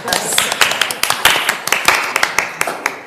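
Close, loud individual handclaps at a city council meeting, a handful of people clapping in a loose, uneven rhythm of sharp distinct slaps, with some talking underneath.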